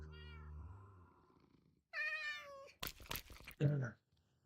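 Several cats in a video game meow in a quick series of varied, fairly close calls. Talk runs underneath them.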